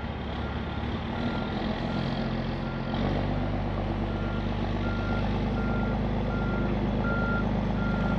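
A dump truck reverses while helping a neighbor, its backup alarm beeping steadily over a loud, continuous diesel engine rumble and truck noise close by.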